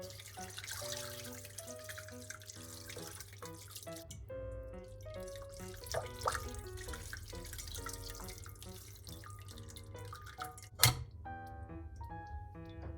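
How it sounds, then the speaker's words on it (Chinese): Cooked salted duck rinsed under warm tap water in a sink gives a quiet running trickle with drips and light clinks, faint and unbroken, no voices. "用温开水洗去表面的浮油。"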